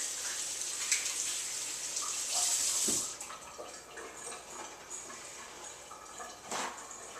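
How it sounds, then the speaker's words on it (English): Hands are rinsed under a running kitchen tap in a steady, hissing stream of water, with splashing that changes as the hands move beneath it. "So I'm going to rinse my hands here"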